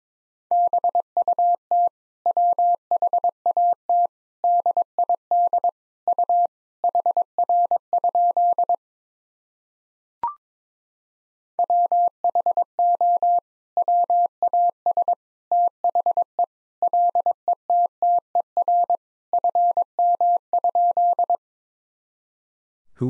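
Morse code sent at 22 words per minute as a steady, clean single-pitch tone, with quick dots and dashes in fast rhythmic groups, one short gap near the middle, and no voice.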